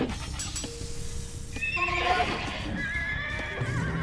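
Horses in the Age of Empires video game, with a clear whinny and neigh over soft clip-clopping hooves and a few faint clicks in the game's background.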